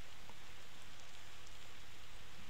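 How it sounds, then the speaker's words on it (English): Rain patters steadily onto a metal grate in Sonic Adventure DX, a dense, even hiss of drops that fills the whole stretch without pause. "the rain's going on the grate, not through it."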